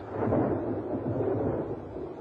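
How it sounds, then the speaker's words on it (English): Thunder from lightning rolls as a steady, deep rumble across the whole stretch, fairly loud and with no voices over it. "Lightning is the most dramatic form of energy to be found in nature."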